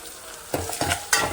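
A tempering for tamarind rasam fries in a pan with a soft sizzle and three quick stirring scrapes spaced close together, near and fairly loud.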